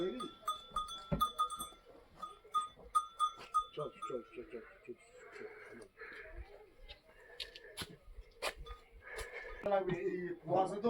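Large goats at a homestay in Rammam bleat and shuffle at a moderate distance, with scattered clanks and knocks and a faint bird now and then, while a person talks over the animals at times.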